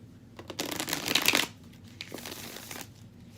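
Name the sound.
shuffling tarot cards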